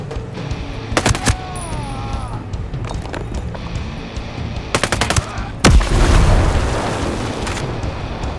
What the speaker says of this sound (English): There was a grenade.